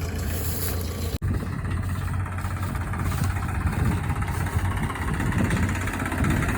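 A 2024-model Swaraj 855 tractor engine runs steadily on a farm with a continuous low, loud rumble, briefly cut off for an instant near the start before resuming unchanged.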